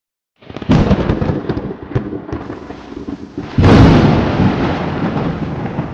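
A loud crack of thunder bursts out, rumbles on, then a second heavier boom rolls in and lingers with a deep roar.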